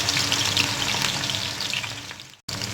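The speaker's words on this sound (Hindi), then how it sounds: "अब हम इसके अंदर डालेंगे प्याज हमने 2 दरमियाने साइज के लिए हैं।" Two medium onions fry in a cup and a half of hot oil for beef haleem, giving a continuous close, bright sizzle that breaks off in a brief gap near the end and then resumes.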